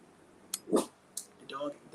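A dog gives a couple of short barks and yips indoors, close by and fairly loud, mixed with brief voice sounds in a quiet room.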